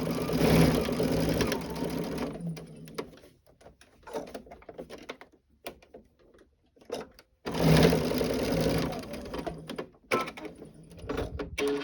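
A sewing machine stitches a quarter-inch seam on a scrappy stained-glass quilt block, running in two long steady whirring bursts separated by quieter pauses with small handling clicks.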